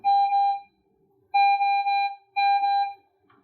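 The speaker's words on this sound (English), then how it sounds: "If you do experience issues, you will get an alarm that sounds like this." A pulse oximeter alarm gives three steady electronic beeps in a repeating pattern, each lasting over half a second with short gaps between them, a clear and fairly loud tone in an otherwise quiet room.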